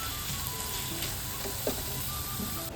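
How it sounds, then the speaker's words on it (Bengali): A spice paste of cumin and onion being fried for a light fish curry, a steady close sizzle with faint scraping of a spoon in the pan, brief and without talking. "জিরে আর পেঁয়াজ দিয়ে শুধু পাতলা একটা মাছের ঝোল করবো মশলাটাই কষে নিচ্ছি"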